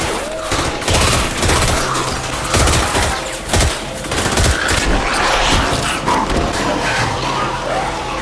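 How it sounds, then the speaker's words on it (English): Rapid gunfire bursts from a zombie movie, loud and dense, with repeated sharp shots in fusillade-like volleys across the whole stretch and no speech. "Upon hearing the gunfire, other zombies rushed towards the sound"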